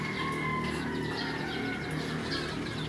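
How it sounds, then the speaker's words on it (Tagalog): Backyard chickens clucking and murmuring while being fed, soft overlapping fowl calls at moderate distance over a low steady background, with a brief sharper call at the very end. "pag pinapakain ko po yung mga manok natin ay ayan"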